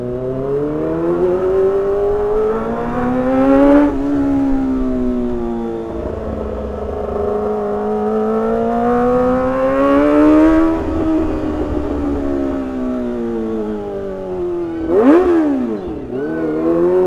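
A Kawasaki ZX25R sport motorcycle engine revs repeatedly, its pitch climbing and dropping in bursts, loud and close, with sharp throttle blips near the end.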